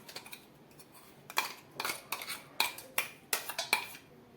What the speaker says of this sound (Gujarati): હવે આપણે તેને એક વાસણમાં કાઢી લેશું.